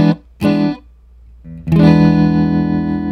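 Electric guitar played dry with distortion: two short chords, a pause, then a long sustained chord ringing out with no reverb tail.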